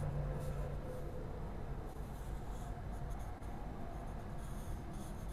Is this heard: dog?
no